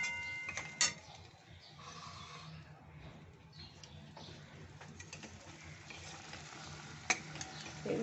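Ginger paste and spices being stir-fried in a pan for dhokar dalna, heard as a faint, steady sizzle with occasional scraping and stirring knocks.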